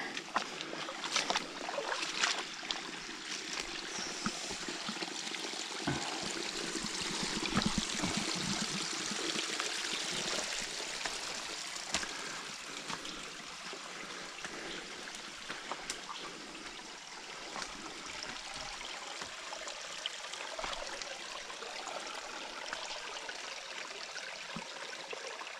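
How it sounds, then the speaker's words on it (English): Shallow forest stream with little water left, trickling over rocks: a soft, continuous watery rush and gurgle, fairly faint and close, with occasional small splashes and rustling of someone moving nearby. "You hear the water? How peaceful it is?"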